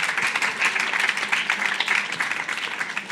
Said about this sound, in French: On peut l'applaudir aussi, bien évidemment.